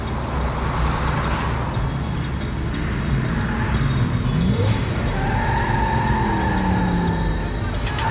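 A 2020 Ford Explorer brakes hard under automatic emergency braking, its tires skidding with a loud screech over a dense roar of engine and road noise, with a brief bright squeal partway through.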